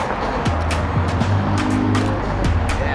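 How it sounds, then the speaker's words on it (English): Cars on a road pass close by one after another, with tonal engine hums rising and falling in a steady stream and sharp swishes as each vehicle goes by. "I'm gonna move with the cars as they're going by at the same speed that they're going"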